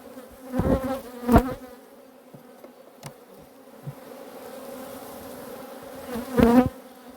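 Steady, close droning buzz of many honey bees from a caught swarm in a hive, drawing out comb, swelling louder in a couple of brief surges before settling back to a constant hum.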